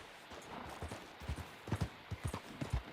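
Horse hooves from the video game Red Dead Redemption 2, a run of soft, irregular thuds close by that grow more distinct toward the end, with no talking.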